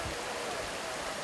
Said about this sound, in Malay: Hujan lebat guys,